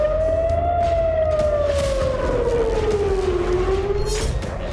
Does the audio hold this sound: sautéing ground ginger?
no